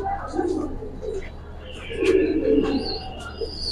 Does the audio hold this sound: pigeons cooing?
yes